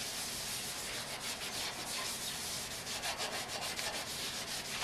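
Sandpaper rubs against the metal side of a truck bed being prepped for primer, a dense continuous scratchy hiss with quick back-and-forth strokes close by and no talking.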